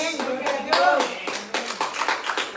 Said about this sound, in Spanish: Dele palmas fuertes al rey si se le va a dar